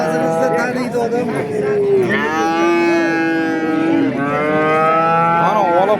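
Oxen at a busy livestock market lowing in long, drawn-out moos, several loud close calls overlapping and rising and falling, with crowd noise underneath.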